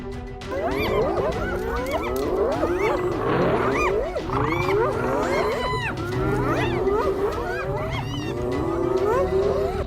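A male lion fights baboons on the African savannah, amid a dense chaotic chorus of overlapping shrieks, barks and roars that stays loud and continuous throughout.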